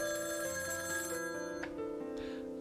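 A telephone rings in the video game Gabriel Knight: The Beast Within, a steady electronic trill with clear tones that runs continuously, fairly quiet and alone.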